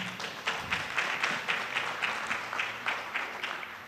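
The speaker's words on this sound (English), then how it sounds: "I would ask for a hand of applause for our panelists at this moment" Audience applause for the panelists at a mayors' forum session, a moderate, steady patter of many hands clapping in a hall with a regular pulse, fairly distant and without talk.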